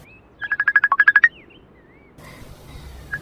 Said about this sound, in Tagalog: adda umawag iti cellphone na